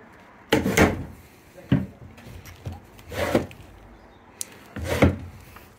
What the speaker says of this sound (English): Check some of these drawers as well.